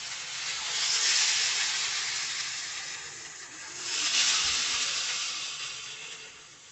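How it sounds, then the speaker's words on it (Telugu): Fish pieces frying in hot oil over high heat: a loud, steady sizzle that swells twice as more pieces hit the pan. "ఫ్రై అవ్వాలండి, కొంచెం ఫ్రై అయ్యే వరకు హైలోనే ఉంచండి."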